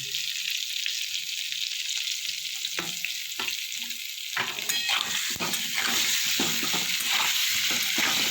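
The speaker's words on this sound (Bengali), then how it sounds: "একটু ভালো করে মোটামুটি ভাজবো, খুব বেশি ভাজবো না" Eggplant frying with Kashmiri chili powder in a pan: a close, continuous sizzle with sparse spatula scrapes at first, becoming busier with repeated stirring and clattering strokes toward the end.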